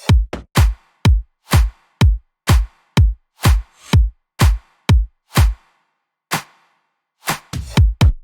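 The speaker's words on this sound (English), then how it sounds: "In the second bar of the drop there are some claps coming in." Future house drop with a steady four-on-the-floor kick, now joined by sharp claps on alternating beats, fairly loud and dry, with a gap and broken fill near the end.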